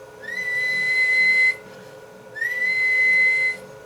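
A person whistles into the microphone of a small radio keyed through a large amplifier, two sustained steady whistled tones each about a second long with a pause between, clear and loud.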